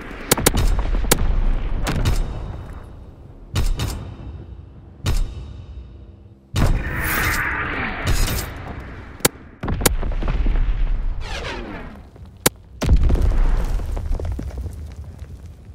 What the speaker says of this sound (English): Sending mortar rounds. Zone and sweep.